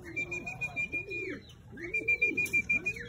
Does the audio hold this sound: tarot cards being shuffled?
no